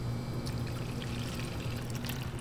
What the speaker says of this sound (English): So all we're going to do is we're going to pour that in.